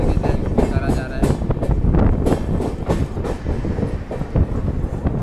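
Amrit Bharat Express train rolling into Khandwa Junction railway station, a steady loud rumble of wagons with rhythmic wheel clatter and wind buffeting the microphone, with some talk mixed in.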